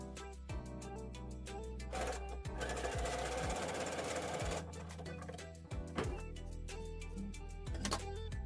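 Sewing machine stitching stretchy rib knit fabric for a sweatshirt neckline, running in several loud mechanical bursts of rapid needle chatter with brief pauses between, one long continuous run in the middle, no talking.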